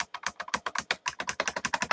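Arrow keys on a computer keyboard tapped in a quick, close, uneven run of about twenty presses within two seconds, with no talking.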